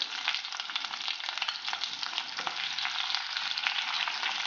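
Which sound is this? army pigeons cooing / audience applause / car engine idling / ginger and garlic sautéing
ginger and garlic sautéing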